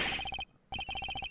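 A phone rings in the video game Ace Attorney Investigations, with short electronic ring pulses in quick bursts, a brief gap, then another burst, clear and alone.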